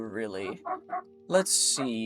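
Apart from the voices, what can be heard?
dogs barking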